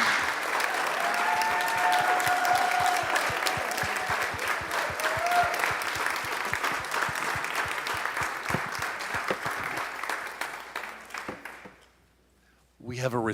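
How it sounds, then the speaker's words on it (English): Large audience giving a big, loud round of applause to award recipients returning to the stage at the Rothko Chapel Óscar Romero Award ceremony, sustained dense clapping that cuts off abruptly near the end. "let's give our 2023 Rothko Chapel Óscar Romero awardees another big round of applause"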